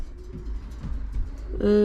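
Racing pigeons coo softly in a loft, low murmuring calls over quiet background noise, ending in a louder, clearer bird call at the close.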